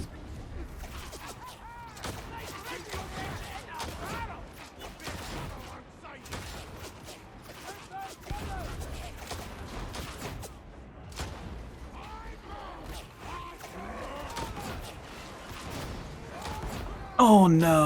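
Missile launcher firing during Warhammer 40K Darktide combat: a chaotic run of fairly quiet bursts, bangs and mechanical clatter, with voices and game noise throughout and a sharper burst at the end.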